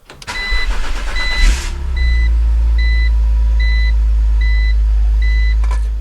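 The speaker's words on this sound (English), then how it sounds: "let's start up the car and make sure we don't have any more error lights." A BMW car engine cranks briefly and catches, then settles into a steady low idle, close and loud, while a dashboard warning chime repeats evenly throughout.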